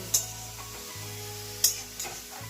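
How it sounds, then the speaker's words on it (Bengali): Low steady hiss of red amaranth greens frying in a pan, with a few sharp scrape-like clicks of stirring scattered through. "শাক ভাজা বসিয়ে দিয়েছি"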